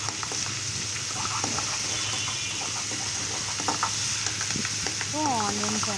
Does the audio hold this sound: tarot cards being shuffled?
no